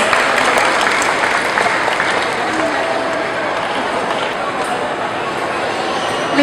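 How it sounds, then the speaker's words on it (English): Warm round of applause from a crowd for the top ten finalists of a pastry competition, sustained clapping with background crowd murmur that stays full and even from start to finish. "Let's give them another warm round of applause,"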